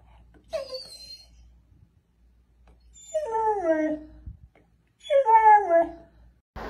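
A dog gives three drawn-out, rising-and-falling howls mixed with high whimpering whines, each call separated by short pauses, fairly close and clear against a quiet background.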